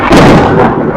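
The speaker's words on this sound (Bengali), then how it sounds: "বাজও পড়ার আওয়াজ আপনারা শুনতেই পাচ্ছেন" A sudden loud thunder clap booms and rumbles through heavy rain at a hilltop viewpoint in Netarhat, filling the whole second at close range.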